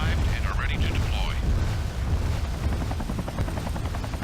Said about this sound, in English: I'm not going to worry about those helicopters.